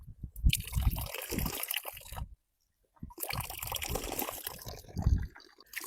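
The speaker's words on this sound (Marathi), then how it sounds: "असं पाणी ओंजळीत भरून घ्यायचं" Tap water running and splashing into cupped hands, a close, rushing pour that stops briefly, then resumes with gurgling and dripping.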